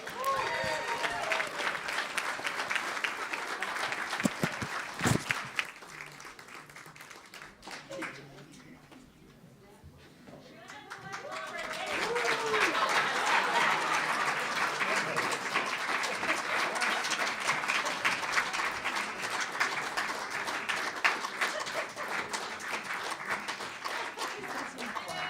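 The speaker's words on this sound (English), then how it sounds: "Let's have a round of applause for the" A club audience applauds and cheers to welcome a band on stage. The clapping rises, fades briefly to near quiet, then swells again loud and sustained, with some crowd voices and a spoken announcement mixed in.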